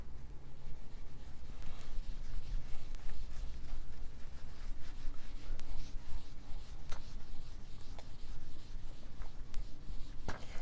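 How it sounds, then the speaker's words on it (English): Writing being erased from a board, a steady close scrubbing and rubbing that runs continuously with occasional sharper scrapes and no talking. "now I can erase this one"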